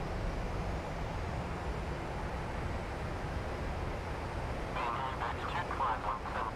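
Reverse thrust of a PMDG 737-800 just after landing in the Prepar3D flight simulator, a steady broadband engine roar throughout with a brighter whining surge near the end.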